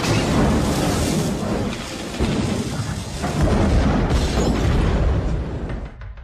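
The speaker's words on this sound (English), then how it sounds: "climbs into his 1983 Eldorado, turns on the ignition, and is engulfed in a fireball" A car bomb goes off in a 1983 Eldorado in a film scene from Casino, engulfing it in a fireball: a loud, continuous roaring rumble with deep booming swells that fades slightly at the end.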